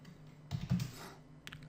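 Typing on a computer keyboard: a short burst of soft, close keystrokes in quick succession, then a single tap after a pause, quiet and alone.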